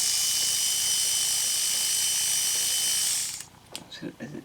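A small motor in an old junk robot whirs steadily with a bright high whine for about three seconds, then stops, followed by a few faint clicks and handling sounds.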